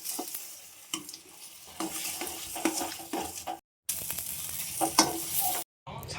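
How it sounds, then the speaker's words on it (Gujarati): Boiled potato filling for dabeli is stirred in a pan with a spoon, giving repeated scraping and soft sizzling strokes, close up and broken by two brief silences. "હવે આપણે આને બરાબર મિક્સ કરી નાખીએ."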